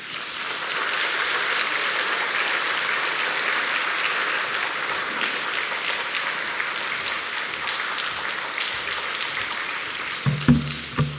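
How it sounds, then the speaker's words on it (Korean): A church congregation applauds at a Korean revival mission gathering to welcome a missionary to the pulpit, a loud, steady wash of clapping that holds for about ten seconds before tapering off into a few scattered claps at the end. "우리 나오실 때 큰 박수로 환영하겠습니다."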